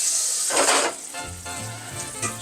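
Olive oil and butter frying in a pan give a bright, close sizzle that swells briefly and then settles into a steady crackle with a low rumble underneath, with no voices.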